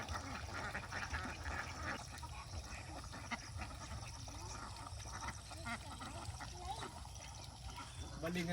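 Domestic ducks held in a pen on a Filipino farm quack faintly and continuously beneath a steady noisy background and low rumble, with a voice talking over them.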